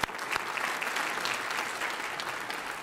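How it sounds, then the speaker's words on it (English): An audience at a Martin Luther King Jr. regional celebration gives a steady, even round of applause, many hands clapping at once in a hall. "Give yourselves a nice round of applause."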